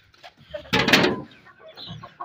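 Aseel hens and chicks cluck close by, a burst of loud squawking clucks in the middle with softer peeps and clucks before and after, no talking.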